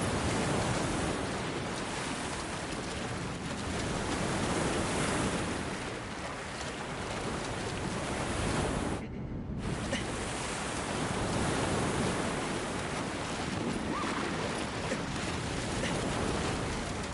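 Violent waves crash without pause in Shadow of the Colossus, a dense, steady roar of surging water and spray that fills the whole stretch, with one brief dip partway through.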